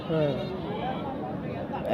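Sheep bleat briefly at the Piler Sunday sheep market, a close wavering call mixed with people talking.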